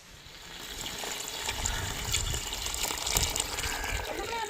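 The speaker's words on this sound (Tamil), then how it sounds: "இதோட இப்போ நம்ம அளவு தண்ணி சேர்த்துக்கிறோங்க." Water gushes steadily into a cooking pot for chickpea biryani for several seconds, a broad splashing rush with some faint background voices.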